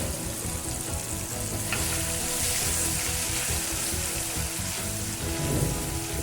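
Green chillies and turmeric frying in hot oil in a pan, a steady close sizzle with light stirring scrapes and no talk.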